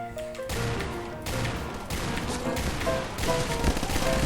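Rapid gunfire bursts in a shooting video game, loud and close, with short pauses between volleys and no speech.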